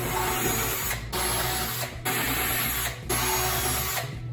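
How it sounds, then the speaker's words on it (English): A power drill bores tufting holes through a headboard board in three steady bursts, each about a second long with brief pauses between, loud and close with no talk. "So now we just need to drill at all of our intersections."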